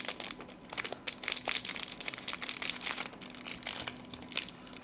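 An Oreo package being torn and crinkled open, close-up, with continuous crackling plastic rustles and small tearing bursts for several seconds, no talk.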